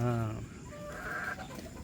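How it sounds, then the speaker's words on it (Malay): A restless backyard chicken, a hen crossed with a Silkie, clucks close by: a brief loud call at the start, then quieter uneasy clucking. "Dengar bunyi ayam gelisah."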